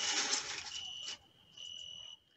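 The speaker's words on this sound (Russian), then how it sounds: "И сверчки. Вот тишина." Crickets chirping outdoors at a dacha in the evening, a thin, steady high trill heard in two short stretches after a brief burst of broadband noise, faint and quiet with no talking.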